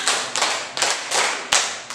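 Five crisp hand claps in a quick patterned rhythm, two, two and one, close and clear with no talking.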